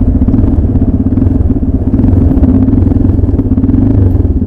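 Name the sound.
old motorcycle engine revving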